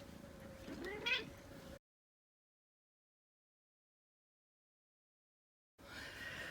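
A cat meows once nearby in a quiet room, a short rising cry over soft background noise, followed by a long silence before faint room sound returns.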